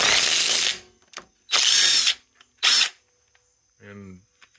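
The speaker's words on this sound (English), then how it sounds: "Just take your impact or your socket wrench" A socket wrench ratchets to loosen a 10 mm bolt on a Honda CT70 Trail 70, giving three loud bursts of rapid clicking separated by pauses, followed by a short voice near the end.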